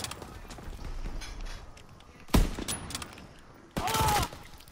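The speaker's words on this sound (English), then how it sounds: "Who's throwing grenades?" Grenade explosions go off in a video game: one sharp, loud blast near the middle, then a longer, heavier burst a moment later, both rising over a quieter, busy battle background.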